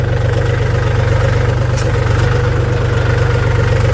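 A tractor engine idles steadily with a low, rhythmic chugging throb, loud and close, unchanging throughout.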